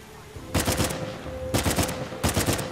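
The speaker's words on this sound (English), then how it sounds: "Stop shooting me." Bursts of automatic gunfire aimed at the player in the video game Uncharted: The Lost Legacy, three loud rapid volleys separated by short pauses, with no talk.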